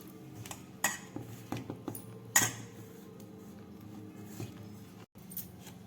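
A spoon stirs gram flour and salt into a sweet filling in a bowl for holige, giving a scattered run of soft scraping taps and a few sharper clinks against the bowl, close and quiet, with no talking.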